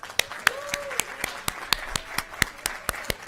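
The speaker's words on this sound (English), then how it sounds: "Round of applause for him." Scattered applause for an honoree at a school recognition meeting: a small group of distinct, sharp hand claps in a loose rhythm, close and clear, with a faint voice briefly underneath.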